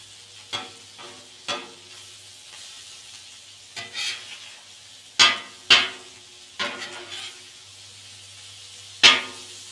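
Metal spatulas scrape and tap steak across a Blackstone griddle, a handful of sharp clinks and scrapes in irregular bursts over a steady low sizzle of frying meat, peppers and onions.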